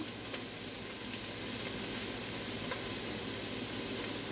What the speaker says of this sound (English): So we're letting that saute first.